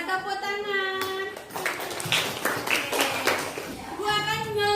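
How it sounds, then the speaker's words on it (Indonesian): Children in a classroom clap together in a short burst of sharp, fairly close hand claps, with a teacher's and kids' voices talking before and after. "Iya, tepuk tangan."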